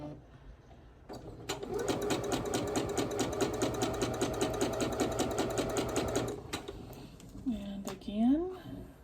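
A sewing machine stitches a quarter-inch seam on quilting fabric in one rapid, even burst of about five seconds, then stops; a person speaks briefly before and after the stitching.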